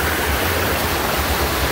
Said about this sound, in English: there's probably the loudest part of the water